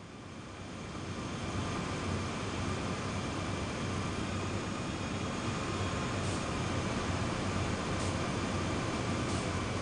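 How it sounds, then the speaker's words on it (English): Long freight train hauled by five locomotives pulls away on Sherman Hill in Train Sim World 3, a low steady diesel rumble that swells in the first seconds and then holds loud and even. "That's how you get this train going with this many cars and with the 5 locomotives."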